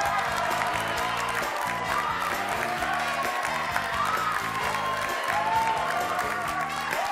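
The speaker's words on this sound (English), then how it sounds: "A big round of applause for all of today's Newlyweds." A game-show studio audience applauds loudly and continuously, with some cheering and whoops over the dense clapping.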